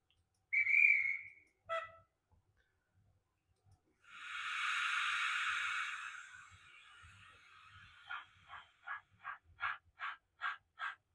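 A G5 model locomotive with onboard sound gives a short whistle toot, then a longer hissing steam release, followed by a quickening run of rhythmic chuffs, fairly close and with no talk over it.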